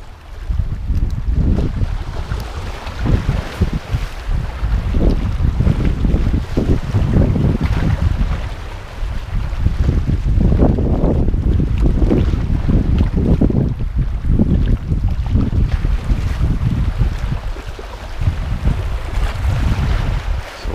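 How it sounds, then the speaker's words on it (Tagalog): Strong wind roars and buffets the microphone in long, loud gusts while fishing outdoors in Leyte, with a deep rumbling low end and no voices. "mahangin na"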